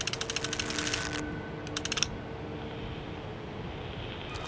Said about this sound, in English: But you just gotta crank it and crank it and crank it